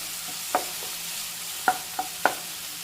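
Tomatoes stirred and fried in a pan hiss with a steady soft sizzle, broken by four brief scrapes of the spoon against the pan.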